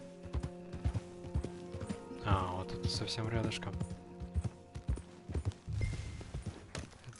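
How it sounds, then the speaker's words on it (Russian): Horse hooves clip-clop in a steady rhythm while riding at a trot in Red Dead Redemption 2 Online, a nearby whinny-like sound in the middle, with someone speaking over the hoofbeats. "буду кататься пока что на этой лошади на второй передаче, чтобы она быстро не дохла"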